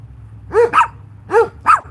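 A dog gives four sharp barks in two quick pairs, close and loud, with short pauses between, over a faint low background hum.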